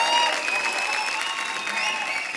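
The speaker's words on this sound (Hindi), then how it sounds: "एक बार जोरदार तालियां हो जाए" Studio audience applause on The Kapil Sharma Show, a steady dense roar of clapping lasting the whole stretch with no break.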